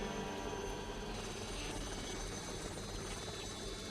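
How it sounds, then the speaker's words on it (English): Steady, dense rotor and engine drone from a rescue helicopter hovering in tricky winds at about 14,000 feet in the Alps, loud and continuous with a constant roar and no voices. "Tony keeping the helicopter steady in the tricky winds"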